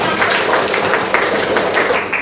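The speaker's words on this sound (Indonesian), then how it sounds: "Tepuk tangan." Junior high school students clap their hands together in a classroom, a dense, lively burst of many palms at close range that carries on steadily throughout.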